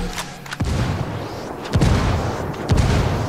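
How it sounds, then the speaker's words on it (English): Mortar rounds exploding in the tactical shooter Ghost Recon Wildlands at a coca farm, three heavy booms spaced about a second apart over a dense rumbling backdrop. "Is he, mortars away"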